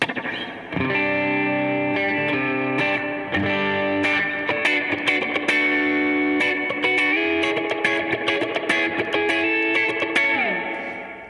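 An electric guitar plays chords and single notes with a splashy, springy reverb tail, effected and slightly distorted, no voices.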